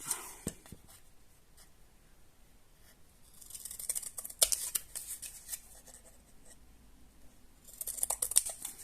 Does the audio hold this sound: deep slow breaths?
no